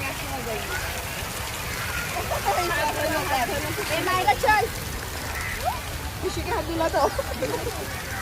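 Water splashing steadily from a fountain in a large park, a continuous broadband wash with scattered droplet spatters, heard under a voice speaking over it throughout.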